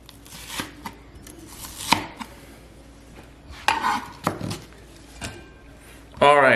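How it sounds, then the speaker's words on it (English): A knife slices onions on a cutting board in a home kitchen, giving scattered close taps and crisp cuts at an uneven pace, mixed with some utensil clatter and a person talking. "onions all sliced up"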